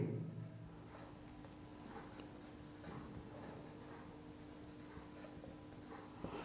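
Pen or chalk writing during a class-eight algebra lesson, a quiet run of short scratchy strokes in an irregular rhythm over a faint steady hum, close by with no voices.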